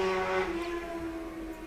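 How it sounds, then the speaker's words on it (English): A motorbike goes by near a wildlife waterhole, a steady, fairly loud engine drone that eases off slightly over the short stretch, with no one speaking. "Apologies for that noise, folks. Just some guy on his motorbike."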